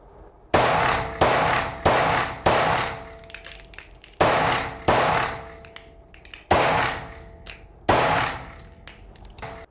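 Seven sharp pistol shots from an Arex Rex Zero handgun fired at a target about 7 yards away, each a loud crack with a ringing metallic tail, spaced roughly a second apart with a few brief pauses, no talking.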